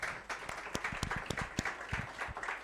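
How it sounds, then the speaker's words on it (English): A small audience at a networking workshop gives a round of applause: distinct, uneven claps from a handful of nearby people, fairly faint overall. "let's give them another round of applause"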